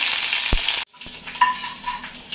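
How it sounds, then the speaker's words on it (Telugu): Loud, dense sizzle of tempering spices for a tomato-coriander chutney frying in hot oil cuts off abruptly as the stove is turned off, leaving quieter light clinks and a faint hum. "తాలింపులు ఇలా వేగాలి"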